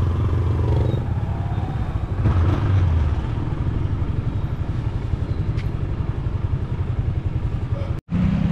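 A motorcycle rumbles steadily on a rough, rocky road, its engine drone mixed with clattering and scraping from the bumpy surface, loud and close throughout before a brief cutout near the end.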